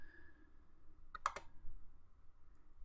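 A computer mouse clicks the Open button, two quick, crisp clicks close together against a quiet, nearly silent background.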